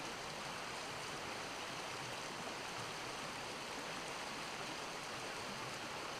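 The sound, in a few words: filtered water flowing from squeeze bottle into canteen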